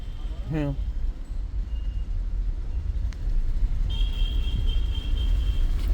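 A Skoda Kushaq driven slowly on a training drive, its low engine rumble steady and close, growing slightly louder and fuller toward the end as it speeds up, with a brief chirp and a thin whine heard over it.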